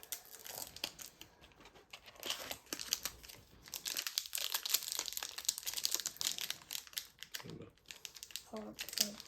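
A Disney Lorcana booster pack wrapper crinkles and tears close up as someone struggles to open it, giving a long run of sharp, busy plastic rustling with brief pauses, while people talk nearby.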